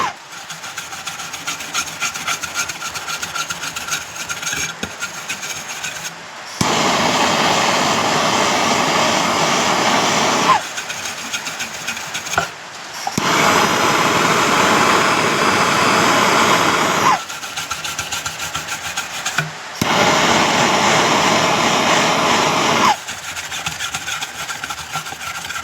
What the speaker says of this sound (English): the brass actually melts from the wire brush and transfers